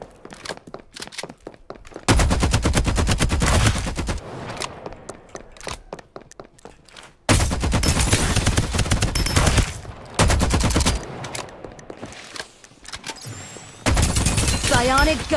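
Rapid automatic gunfire from the video game Farlight 84 comes in several long loud bursts, each a fast stream of shots, separated by quieter gaps with game sounds and speech in between.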